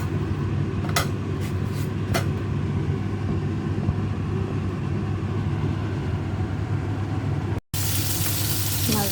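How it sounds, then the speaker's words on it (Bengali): Fish frying in a pan for a Bangladeshi home lunch curry, a steady crackling sizzle with broadband hiss running throughout, a few sharper clicks and utensil taps early on, and a brief cut near the end. "মাছ ভাজি করছি দুপুরের তরকারিটি দেওয়ার জন্য"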